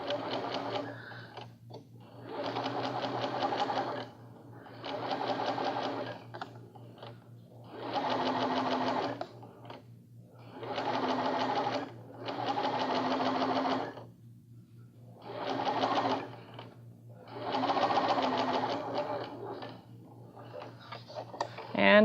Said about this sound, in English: So I'm going to go ahead and stitch over the old stitch.